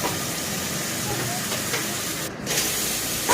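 Ingredients for potato kurma fry in a pan with a continuous loud hiss and sizzle, broken by a brief dip before the steady frying resumes.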